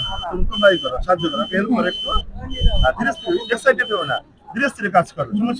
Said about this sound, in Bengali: প্রথমে অ্যালার্ম বাজছে, এখন বন্ধ করে দে।